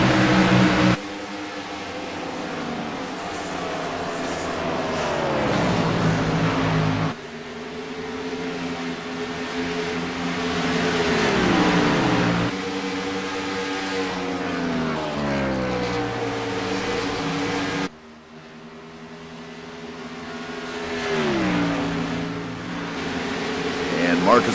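Race cars roar past on the front stretch at Chicagoland Speedway, a continuous loud engine drone with rising and falling pitch sweeps as cars go by, under steady commentary.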